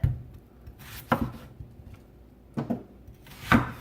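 Knife cutting vegetables on a board, a few separate chopping thuds spaced about a second apart, close and clear with quiet gaps between and no talking.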